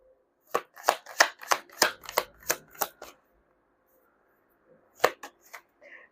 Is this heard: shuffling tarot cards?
yes